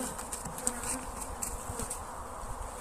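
Honey bees at an opened hive during a spring feeding check, a steady close buzzing hum of many insects with faint individual wingbeats flitting past.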